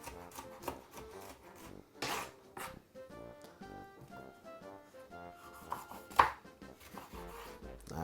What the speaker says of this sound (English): I'm just cutting up all of these ingredients because it's going to be needed